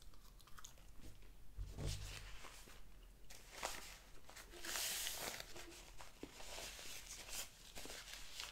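Close, crunchy bites and wet chewing on a Jimmy John's Little John sub sandwich, with irregular crunches and mouth sounds spread across the stretch, no talking.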